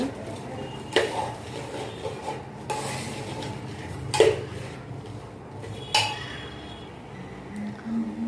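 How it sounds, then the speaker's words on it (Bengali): Pulao rice toasts in a pan, stirred with a utensil that scrapes and clinks against the metal in a few distinct strokes over a low background rustle, with no talking. "পোলাওর চাল দেওয়ার পরে কিছুক্ষণ আমি ভাজি করি"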